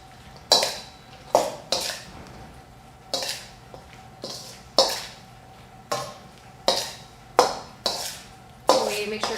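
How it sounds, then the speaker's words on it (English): Zucchini tossed with red pepper flakes and a sweet sauce, giving a steady series of close, sharp utensil clinks and scrapes about once a second over a low background hum. "And then we're going to toss all that together."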